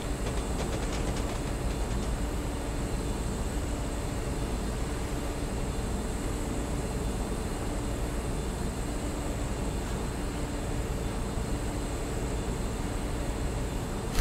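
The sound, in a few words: passing train in video game Train Simulator 2021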